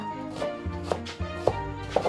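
Vegetables chopped on a board in a home kitchen: a few sharp, separate knife knocks land at an irregular pace over a low background hum, close and fairly clear.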